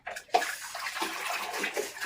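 Hot water runs and splashes into a bathtub in uneven surges, fairly quiet and close, with no talking.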